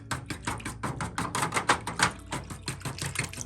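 A fork whisks paint dye around inside a container, giving a fast run of close, sharp clicking strokes that keep a steady rhythm for a few seconds, with no talking.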